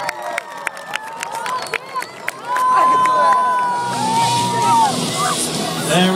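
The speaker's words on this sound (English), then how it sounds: "Let's put those hands together, you guys. Let's make some noise for Mr. Dustin McCarty." A crowd at an outdoor BMX show claps in scattered bursts, then swells into louder cheering and broad applause, with an announcer talking over the noise.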